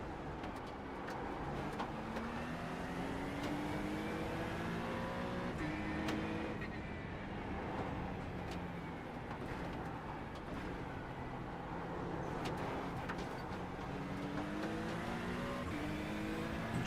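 BMW race car engine in a racing video game at Bathurst, a continuous rising and falling whine through gear changes, steady and moderately loud for the whole stretch.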